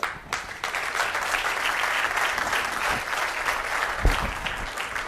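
Loud, sustained applause fills a hall after a presenter names Sheikh Zayed, a dense crowd clapping that swells quickly after a sharp start and stays steady, with a few louder claps punching through near the end.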